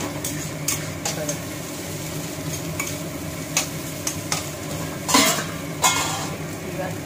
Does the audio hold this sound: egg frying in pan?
yes